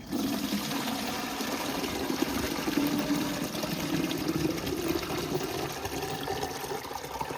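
Collected rainwater poured out steadily to water a small home garden in France, a continuous splashing, gushing flow that stays close and even throughout, with no talking.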